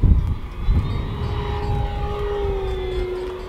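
An E-flite Focke Wulf FW 190a RC warbird plane flies overhead on a maiden flight outdoors, its electric motor giving a steady whining drone that slowly shifts pitch over wind noise.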